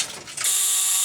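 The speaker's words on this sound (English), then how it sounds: "We turned the key on." The ignition key is turned on a 1964 White truck: a short mechanical click and ratcheting rattle, then a sudden steady electrical hiss or whine starts and holds, close and fairly loud.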